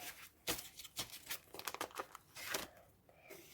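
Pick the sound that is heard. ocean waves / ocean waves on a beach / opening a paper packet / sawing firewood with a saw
opening a paper packet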